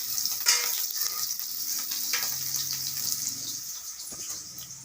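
Whole boiled potatoes fry in a pan with a steady, close hiss of sizzling oil and occasional stirring scrapes, while a faint low voice murmurs in the background.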